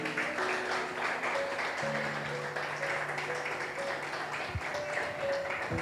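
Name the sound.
church congregation applause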